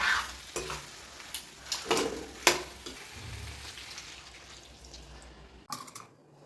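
Hot water poured into a sizzling mutton curry in a pan, with stirring clatter and bursts of frying hiss that fade toward a quieter simmer. A short clink comes near the end.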